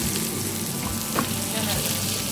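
A burger patty sizzles on its second side in a pan over low heat, a steady close crackle and hiss running throughout with a faint clink partway.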